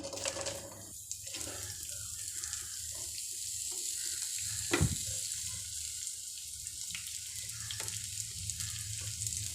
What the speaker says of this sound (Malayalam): ഇനി ഉള്ളി നന്നായി കുക്കായി വരുന്നത് വരെ ഒന്ന് വഴറ്റി കൊടുക്കണം